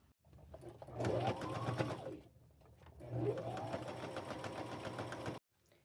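A sewing machine threaded with white top thread and a red bobbin stitches pinned fabric in two sustained runs of fast, even whirring, close and steady, separated by a brief pause, with no speech.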